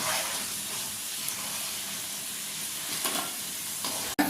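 Freshly fried French fries for loaded chicken fries crackle and sizzle steadily in a hot pan or oil, a dense continuous hiss that ends in a brief clatter near the close.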